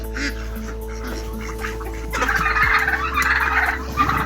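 Turkeys gobble in bursts on a poultry farm, growing louder and busier partway through, over a steady low background hum.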